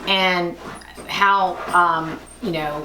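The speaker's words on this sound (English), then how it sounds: "That's the dog in the background, just ignore him." A dog whimpers and yips in several short, high, whining bursts spaced through a couple of seconds, close by and fairly loud, with a person talking over them.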